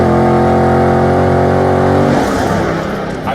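A 2015 Chevrolet Camaro Z28 engine roars loudly and steadily under load, then its pitch breaks and shifts as the car changes gear, with no voices over it.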